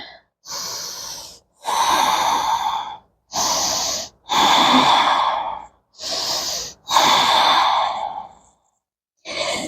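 Deep, loud breaths come during a yoga pose, six long airy inhales and exhales in a slow, even rhythm, each separated by short pauses of silence, close to the listener.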